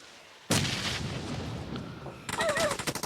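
P90 submachine gun fire in PUBG Mobile, a sudden loud sustained burst of rapid shots starting abruptly, then a second choppier burst with distinct individual pops near the end.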